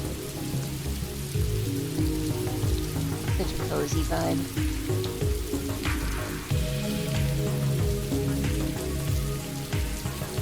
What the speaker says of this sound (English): I've got rain as a background effect